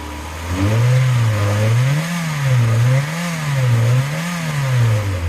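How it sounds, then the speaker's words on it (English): An old, slightly lumpy Volkswagen engine revs up and down in waves, heard close from the engine bay, loud and steady with no talking. "Do a little rev up for her."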